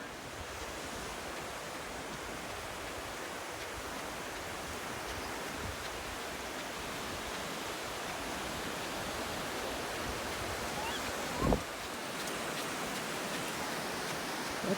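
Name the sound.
ocean waves breaking on the beach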